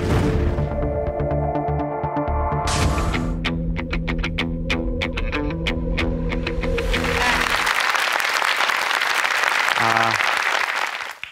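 Applause from a talk-concert audience welcoming a lecturer, breaking out loud and dense after several seconds of tonal music and continuing steadily to the end.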